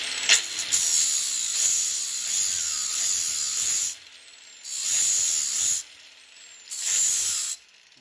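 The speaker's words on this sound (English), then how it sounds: "So I'm gonna get a little grinding in there." A grinder whines in several bursts against a Datsun 280Z drive shaft u-joint, loud and close, with a long first run followed by two shorter passes separated by quieter pauses.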